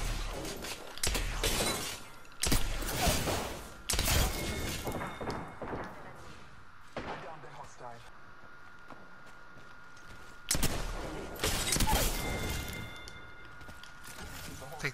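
Gunfire in the video game Apex Legends, repeated loud bursts of shots in several clusters with quieter gaps, near and harsh, mixed with in-game effects and occasional voices.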